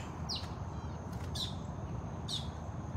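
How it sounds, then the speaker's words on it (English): Three sharp, high descending bird calls ring out at intervals over a steady, noisy outdoor background at a big cat rescue, fairly faint and distant. "a very noisy, brave bird up there screaming at her"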